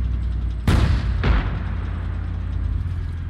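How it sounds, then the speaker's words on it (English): Two sharp booming blasts from explosions in a military video game, the first loud and sudden, the second following about half a second later, over a steady low engine-like rumble with no talk. "I see the explosions of that."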